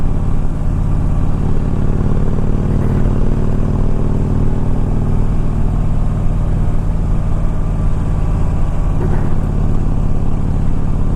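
A 2007 Harley-Davidson FLHT motorcycle rides along on a rainy test drive, its engine holding a steady low rumble throughout with constant road and wind noise, loud and close, with no talking.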